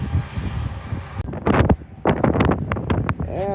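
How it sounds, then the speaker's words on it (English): Strong gusty wind in Dodge City, Kansas buffets the microphone, roaring and crackling in uneven bursts, with a sharp cut partway through as the gusts continue. "It's a windy one today."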